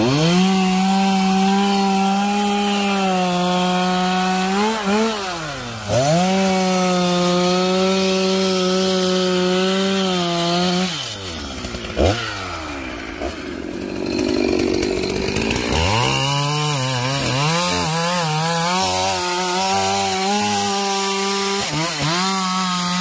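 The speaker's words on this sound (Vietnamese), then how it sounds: "Tiếp tục cưa cái cây kế bên kia lúc nãy nha bạn" A chainsaw drones loudly at steady revs as it bites through a large melaleuca tree, pitch dipping under load several times before racing back up.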